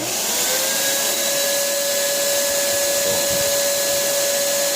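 A Paint Zoom paint sprayer runs with its hose and nozzle attached, a steady, loud motor whine and airy hiss that holds constant without a break.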